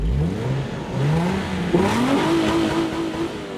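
A car engine revs repeatedly, each pull climbing in pitch before dropping back, then holds a high, steady buzz as if bouncing off the rev limiter, loud and close with no talking.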